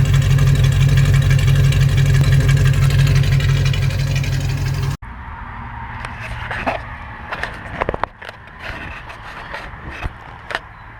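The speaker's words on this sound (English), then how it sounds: "Here's what that awesome exhaust sounds like right now." A loud 6.6-litre diesel engine in a G30 ambulance rumbles steadily at idle through its exhaust, then cuts off abruptly, leaving scattered clicks and clunks.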